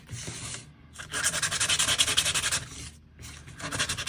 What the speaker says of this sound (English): I really am gonna get down in these crevices and sand those edges, soften up that paint